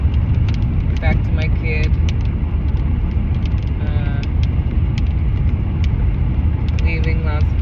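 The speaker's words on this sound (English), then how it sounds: "here I am in the car, driving" Steady low engine rumble and road noise inside a moving car leaving Las Vegas, New Mexico, continuous throughout, with a person talking over it.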